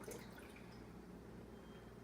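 Water poured into the bottom of a pan to make a water bath for a baked cheesecake, a steady soft splashing and trickling that runs the whole time at close range with no talk.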